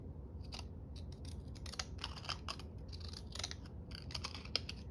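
Small decal scissors snipping thin paper up close, a rapid series of light, crisp clicking cuts over a faint steady background hiss.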